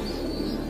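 A Madras pigeon coos softly at close range, a low, continuous burbling murmur with no voices over it.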